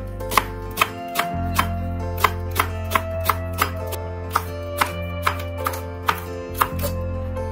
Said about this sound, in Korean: 예, 그 다음에 대파 썰어주세요.